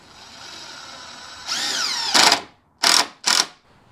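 A power drill spins up and whines briefly as it drives screws into wood, then gives three short, loud bursts of driving noise with brief pauses between them.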